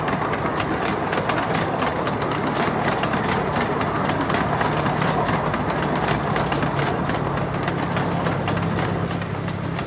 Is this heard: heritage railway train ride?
yes